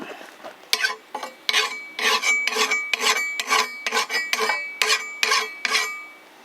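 A hand file rasps across the edge of a vintage axe head in quick repeated strokes, about a dozen sharp scraping passes close by with a metallic ring, no talk.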